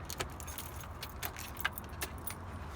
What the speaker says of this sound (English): We put the keys in